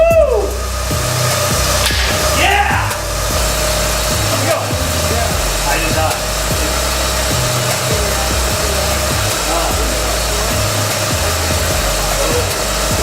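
Porsche 944 engine idling after clogged injectors were fixed, a steady continuous drone with a rough, rhythmic low pulse close by, with brief voices early on.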